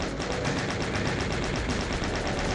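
Chaingunner machine gun fire in the video game Doom rattles in a steady, rapid stream of evenly spaced shots, loud and continuous throughout with no talking.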